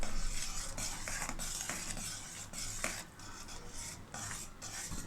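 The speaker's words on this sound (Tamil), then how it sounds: "பொட்டுக்கடலை மாவை கொஞ்சம் கொஞ்சமாக போட்டு கட்டி விடாமல் கலருங்க" Roasted gram flour stirred into hot sugar syrup for burfi in a pan, a steady scraping, rasping stir with a soft sizzle, close and continuous, no voices.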